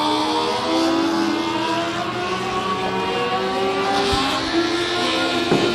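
Modified race cars run a heat at Big O Speedway, a steady layered engine drone with several overlapping engine tones rising and falling as cars circle the track at a distance.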